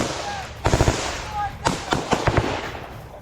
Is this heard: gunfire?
yes